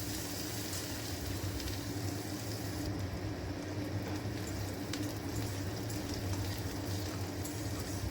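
Chopped onion fries in hot oil for a duck egg curry, giving a steady, close, even sizzle throughout with no speech over it.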